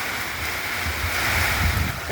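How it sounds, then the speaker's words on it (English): Wind blows steadily as a severe storm moves in on a hot, humid day after light rain. It makes a broad rushing hiss with a low rumble of gusts buffeting the microphone. The sound is continuous and fairly close, and nobody speaks over it. "It's a little windy"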